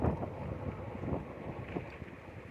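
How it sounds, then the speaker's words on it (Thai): Strong tropical cyclone winds roar and buffet the microphone outdoors, a loud continuous rushing with gusty surges throughout. "พายุหมุนครับรุนแรงมากครับในรอบ 50 ปีครับ"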